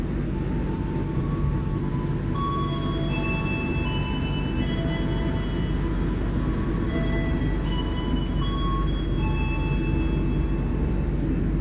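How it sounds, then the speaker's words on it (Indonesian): Inside a Joglosemarkerto economy train leaving Lempuyangan station, a steady low rumble of wheels and carriage noise fills the cabin, with faint squeals and clicks from the rails throughout. "kereta api Joglo-Semarkerto diberangkatkan kembali dari stasiun Lempuyangan"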